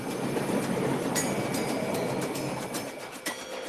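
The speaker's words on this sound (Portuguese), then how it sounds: "Na velocidade do trem-bala." Train running along a Brazilian railway, a steady loud rolling rumble with metallic clinks and squeaks from wheels on rails, continuous and close, fading slightly toward the end.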